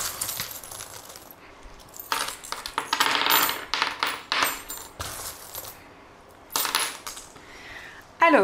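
Small metal divination charms are shaken and cast onto a table, jingling and clattering in loose bursts. The clinking comes in several close, bright clusters separated by short quiet gaps, with no talking.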